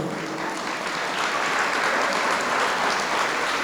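Audience of students and guests at a K-8 school presentation clapping, a steady, full round of applause with no talk over it.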